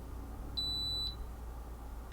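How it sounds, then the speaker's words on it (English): A GEVI Grindmaster coffee grinder gives a single high-pitched electronic beep on entering sleep mode, lasting about half a second, clear and steady over a faint background hum. "the grinder make a high-pitched beep when it goes into sleep mode"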